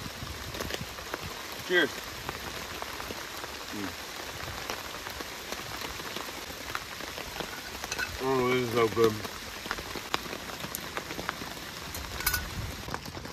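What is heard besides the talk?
heavy rain pouring outside winter camping shelter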